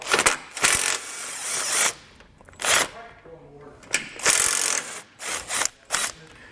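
A ratchet loosens bolts from a Roadmaster Direct-Connect base plate on a 2022 vehicle, giving rapid clicking bursts separated by pauses, close and fairly loud.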